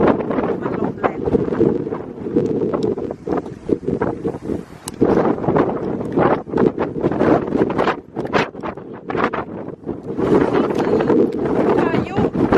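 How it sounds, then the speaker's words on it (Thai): Strong wind buffets the microphone in Iceland on a campervan road trip, a loud, constant roar with gusty bursts throughout, and a voice speaks faintly beneath it. "มันลมแรง"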